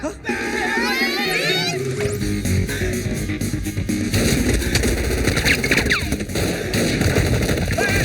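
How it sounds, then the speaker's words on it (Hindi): Continuous crackling bursts of gunfire mixed with shouting voices and children crying out, loud and chaotic throughout. "गोलियां चल रही है, बचाओ बचाओ बचाओ बचाओ,"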